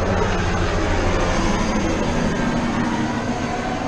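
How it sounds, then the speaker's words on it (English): A loud, steady roar of a helicopter passing close overhead, droning continuously without a break. "Pardon the helicopter."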